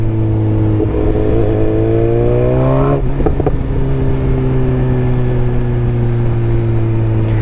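Inline-four engine of a BMW S 1000 XR motorcycle revs up in rising harmonic tones, then shifts and settles into a steady high drone under loud wind rush while riding.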